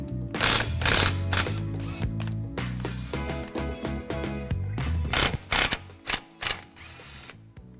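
Ratchet wrench working the 18 mm lower control arm bolt on a BMW E36 rear subframe, a series of close, loud clicking bursts with short pauses between them and no talk.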